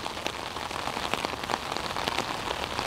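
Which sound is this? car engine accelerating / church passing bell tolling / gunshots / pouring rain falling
pouring rain falling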